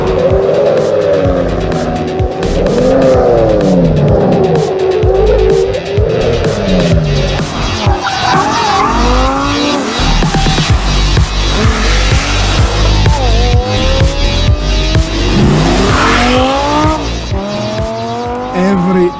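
A Lamborghini Gallardo LP 550-2 revs hard and loud throughout, its engine note repeatedly rising and falling in pitch, with sharp tire squeals as it is driven close by.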